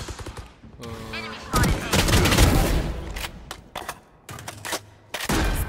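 Gunfire in the shooter game Valorant, with rapid bursts of shots and sharp bangs coming in clusters close up, broken by short gaps and mixed with game effects.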